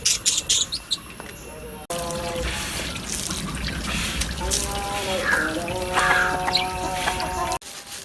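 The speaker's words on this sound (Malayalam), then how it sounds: "ഇതാണ് നമ്മുടെ ലവ് ബേർഡ്സ്" Lovebirds in their cage, high chirps and whistled calls mixed with running water and clattering, loud and close.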